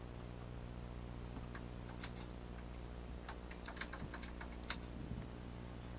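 Rapid, uneven keystrokes on a computer keyboard as someone types commands in the Emacs editor, close and fairly quiet over a steady background hum, with no voices.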